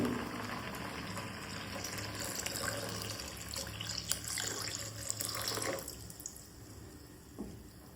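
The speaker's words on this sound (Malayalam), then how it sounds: "it's right time to add പരിപ്പിന്റെ വെള്ളം" Cooked lentil water is poured into a pot of rasam, a soft running, splashing stream heard close by that stops near the end, followed by a few faint drips and clinks.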